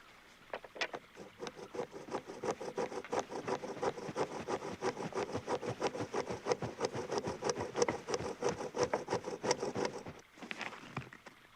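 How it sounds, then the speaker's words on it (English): A bow drill bores peg holes in wood with rapid back-and-forth rubbing strokes, a quick rhythmic scraping that runs steadily for about ten seconds, then stops. "Watch how I make the holes for the pegs with a bow drill."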